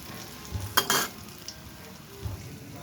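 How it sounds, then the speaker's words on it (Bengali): Potato chips deep frying in hot oil, a steady sizzle with a brief louder burst of crackling and a clink of utensils near the start. "এই যে দ্বিতীয় ব্যাচ আমি ভাজতেছি"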